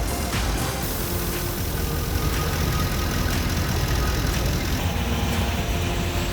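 A 2013 Ford E350 van with a 5.4 engine running on LPG idles with a dense, steady rumble and broadband roar, heard close and continuous with no voices.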